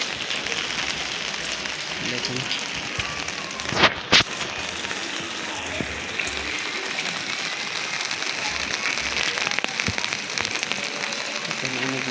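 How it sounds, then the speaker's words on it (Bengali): Heavy rain falling steadily outdoors, a dense continuous hiss with scattered crackling drops, fairly near, with a brief loud knock partway through and a voice speaking briefly. "আজ সারাদিন বৃষ্টি হচ্ছে, বাইরে যেতে পারতেছি না।"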